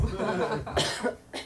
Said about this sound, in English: I don't want to cough into this.